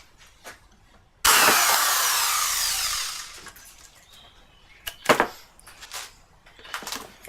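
A hole is punched through a wooden sign with a power tool, heard as one loud, harsh, continuous burst lasting about two seconds that eases off gradually, followed by a few scattered knocks and handling sounds.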